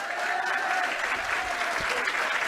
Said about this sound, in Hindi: एक भरत सर के लिए भी जोरदार तालियां।